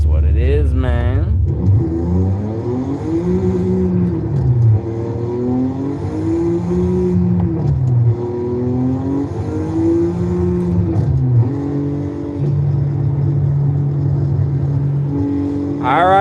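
BMW M4 engine in the racing game Forza Horizon 5, revving and pulling up through the gears in a steady rising-and-falling drone, loud and close throughout with no pauses.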